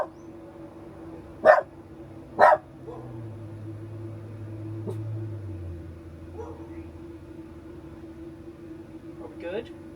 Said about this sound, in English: we got other dogs barking right now